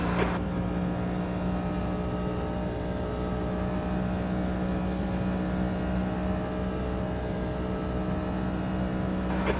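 Steady, droning engine roar of racing cars in the racing game Automobilista 2, holding a constant pitch, loud and continuous throughout with no voices.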